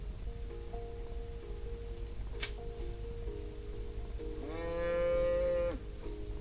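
A cow in the Rising World video game gives a long, loud moo near the end, over quiet background game music.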